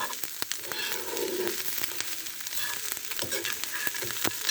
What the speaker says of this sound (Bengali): গাজর আলু ঝরঝরে ভাজি পেঁয়াজ ডিম বাদাম মটরের ডাল হালকা আঁচে এগুলো ভেজে নিতে হবে